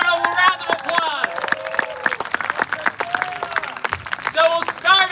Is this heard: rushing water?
no